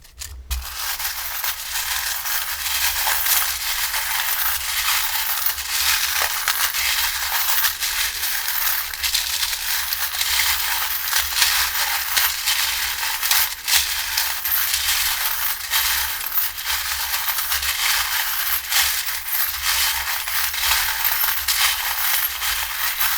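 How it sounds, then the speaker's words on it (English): Tarot charms and dice shaken and tossed together by hand, making a continuous loud, close clattering and rattling of small hard pieces that runs on for over twenty seconds without pause and without talk. "let's take a look at your charms and dice now to get your extra messages."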